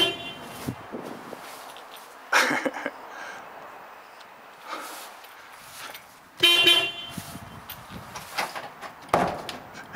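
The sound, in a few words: car horn honking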